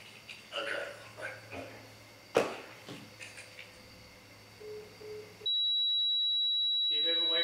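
An electronic alarm at a reputedly haunted poor farm sounds a steady, high, continuous beep tone after faint talk and knocking-like bumps, holding on at moderate loudness to the end.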